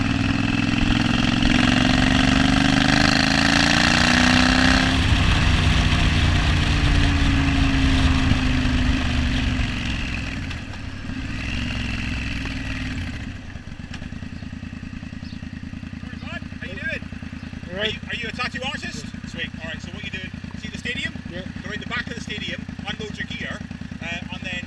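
A Triumph Bonneville motorcycle engine idles loudly and steadily up close, its tone shifting as it revs slightly, then continues at a lower level while a person talks over it.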